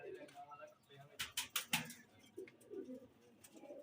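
A Teddy pigeon coos softly nearby, low burbling calls spread through a quiet room with a brief run of sharp clicks in the middle, faint overall.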